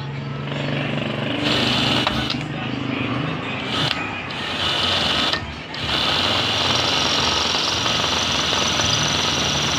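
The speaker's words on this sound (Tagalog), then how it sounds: "tatanggalin natin to, babarenahan namin para matanggal" A rectifier diode being drilled out during a repair: a continuous high-pitched mechanical whine and grinding, loud and close, with brief dips and pauses in the drilling.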